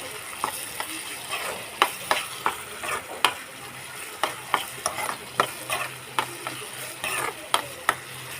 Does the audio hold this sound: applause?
no